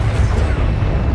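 Depulso force spell cast in Hogwarts Legacy: a loud, deep rumbling burst with a booming low end, sustained for about a second with no speech.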